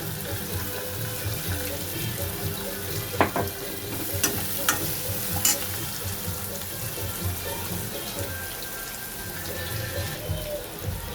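Finely chopped onion with crushed ginger and garlic sizzles steadily in a pan for a dal khichdi, with a few sharp scraping clicks of a spoon stirring midway; close, fairly loud, no talk.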